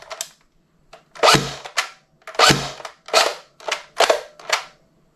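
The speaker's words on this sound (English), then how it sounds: "So let's do a test shoot with that." A P90 airsoft gun fires about eight sharp shots in uneven bursts, close and loud, each a short crack with a brief decay.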